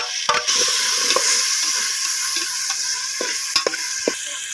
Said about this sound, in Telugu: అల్లం పేస్ట్ వేసాము ఎరగ టమాటా వేసాము